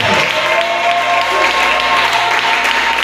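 Worshippers in a Sunday church service applaud in praise of God, a loud, unbroken wash of clapping layered over steady musical tones and faint voices.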